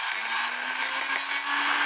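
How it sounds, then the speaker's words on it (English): A Dremel rotary tool whirs steadily against the front side of an Urgos 32/1A Westminster chime grandfather clock movement, a continuous high, close motor whine with a faint tonal hum and no pauses. "You just turn on the Dremel"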